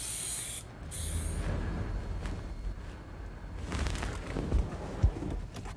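An aerosol can sprays vanilla field colour paint onto a mailbox in bursts of close, airy hiss, with a short pause between passes and a few light knocks near the end.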